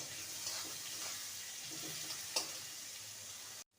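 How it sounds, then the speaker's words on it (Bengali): Eggplant frying in hot oil, a steady soft sizzle with faint bubbling and an occasional small crackle, continuous and moderately quiet before cutting off abruptly near the end. "বেগুনটাকে আগে ভেজে তুলে নেব"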